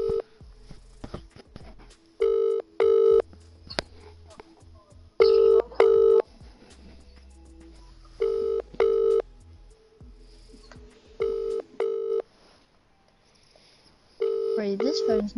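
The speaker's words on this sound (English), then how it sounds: "I'll call him on WhatsApp quickly." A WhatsApp outgoing call ringing tone repeats as loud paired electronic pulses, about five rings separated by short gaps, with faint speech and clicks between them.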